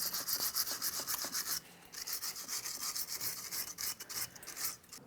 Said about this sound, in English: We're just going to clean this up. We're using a wire brush.